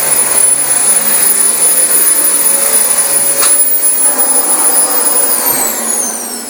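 A vacuum cleaner runs steadily on new carpet, a loud continuous motor roar with a high whine that holds for the whole stretch and eases slightly near the end.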